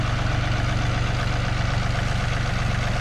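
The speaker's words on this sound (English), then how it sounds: "So I'm so glad he brought the tractor." A tractor engine idles close by, a steady low, throbbing chug that holds an even rhythm with no change in speed throughout.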